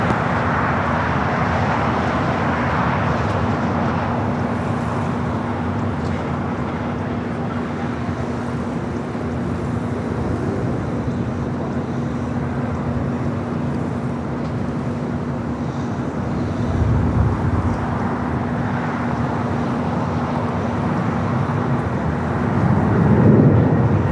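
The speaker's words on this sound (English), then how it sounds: "Air France, followed by Virgin, both landing here on the south side." Air France and Virgin airliners land on the south-side runway at LAX, heard as a steady, distant jet roar with a low engine drone that swells slightly near the end.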